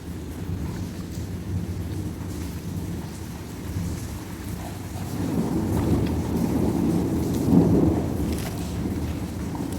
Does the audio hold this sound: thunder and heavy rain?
yes